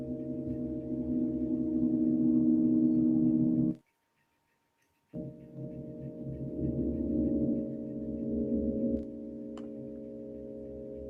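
Signals from a lion's mane mushroom, turned into sound by a MIDI Sprout, come out as a sustained low hum with faint ticking, cut by about a second of silence before resuming, softly and without talk.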